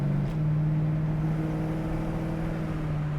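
A 1970 Mercury Cougar engine pulls hard under acceleration, a loud, steady droning note rising slightly in pitch over about three seconds with no talk.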